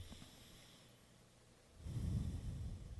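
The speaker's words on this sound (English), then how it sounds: "It was his breathing that got me." A man breathes heavily on camera, with a quiet stretch at first and then loud, close, rough breaths in a steady run during the second half.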